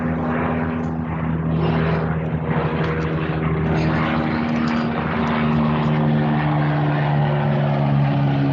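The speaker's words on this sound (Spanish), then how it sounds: "si escuchan aviones y esas cosas es porque yo estoy aquí en el patio" A propeller airplane drones overhead above a backyard patio, a loud continuous engine hum with steady low tones that holds for the whole stretch without fading, and no speech over it.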